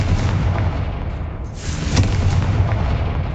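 A Confringo blast spell in the Hogwarts Legacy video game sets off a loud, dense explosive roar that rumbles steadily and swells again midway.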